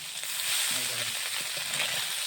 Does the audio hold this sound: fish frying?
yes